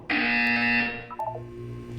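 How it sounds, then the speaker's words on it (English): A loud, sustained electronic buzzer in Portal 2 blares for nearly a second, then cuts off into a brief tail of fainter electronic tones. "When you hear the buzzer, look down at the floor."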